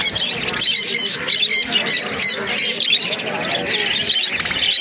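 Many budgerigars crowd a bird shop with dense, continuous squawks and chirps, loud and close, while faint voices murmur beneath the chatter.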